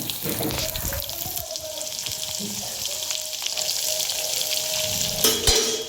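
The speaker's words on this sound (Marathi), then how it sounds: "आता आपण हा कढीपत्ता कांदा घालून घेऊया त्याच्यामध्ये।" Curry leaves and onion frying in hot oil in a home kitchen, a close, continuous sizzle with a few stirring sounds throughout.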